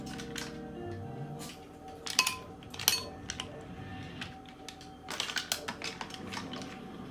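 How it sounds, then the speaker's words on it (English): Cooked mussels in their shells clatter into a bowl in scattered bursts of hard clicks and clinks, moderately close, with quieter gaps and faint background hum between. "start putting our mussels in the bowl here"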